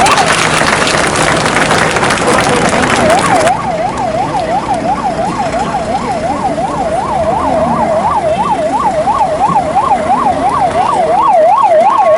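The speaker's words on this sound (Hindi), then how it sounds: "मुख्यमंत्री जयराम ठाकुर ने वीरवार को प्रदेश के 6 मेडिकल कॉलेज के लिए जीवनदायिनी एम्बुलेंस को रवाना किया" Siren on life-support ambulances being flagged off from IGMC Shimla, loud and close, starting with harsh noisy blasts and then turning into a rapid rising-and-falling wail that keeps repeating as traffic hums underneath.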